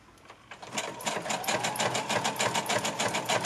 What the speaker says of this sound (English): I have started using the sewing machine at the dining table